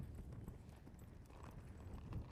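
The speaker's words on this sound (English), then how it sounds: "We got a horse running down here." Ranch horse hooves running past on the ground, a faint, fairly distant drumming of hoofbeats that continues steadily throughout.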